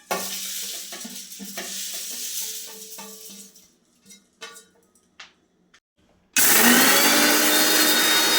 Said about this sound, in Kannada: ಇದನ್ನು ಇವಾಗ ಮಿಕ್ಸಿಗೆ ಹಾಕಿಬಿಟ್ಟು ರುಬ್ಬಬೇಕು